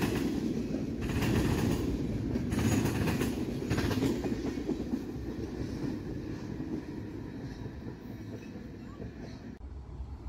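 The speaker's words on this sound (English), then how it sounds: "A Norfolk Southern foreign power on the CN Flint sub was just the thing we needed to finish out the day." A Norfolk Southern locomotive leads a train past on the CN Flint Subdivision, giving a steady rumble and rail clatter at moderate distance, with some wind buffeting the microphone and no talk.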